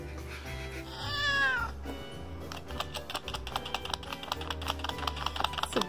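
A cat meows in a rising, drawn-out call, followed by rapid, steady clicking of computer keyboard typing close by.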